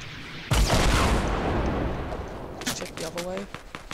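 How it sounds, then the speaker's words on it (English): Rocket launch and blast in Fortnite Battle Royale, a loud sudden boom followed by a long rumbling roar that fades, with scattered sharp cracks and a voice talking near the end. "they're shooting rockets at us"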